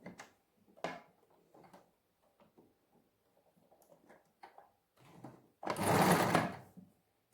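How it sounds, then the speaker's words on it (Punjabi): Domestic sewing machine stitching lace onto a garment sleeve, with scattered soft handling clicks and rustles, then a loud, close, rapid whirring burst of stitching lasting about a second. "ਇਹਦੀ ਸਿਲਾਈ ਕਰ ਲਾਂਗੇ ਇਹਨੂੰ"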